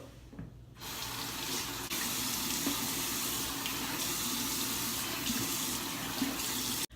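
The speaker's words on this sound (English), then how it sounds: "All right, so I'm gonna rinse this off now." A tap runs steadily into a sink while a face is rinsed during a skincare routine, a continuous close splashing flow that starts after a brief quiet moment and stops abruptly.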